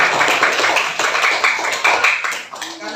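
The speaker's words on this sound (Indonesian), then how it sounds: "Tepuk tangan dulu semuanya." A class of primary schoolchildren in a religious-education lesson applauds together, a dense, fast patter of many small hands clapping steadily for a few seconds, close and fairly loud.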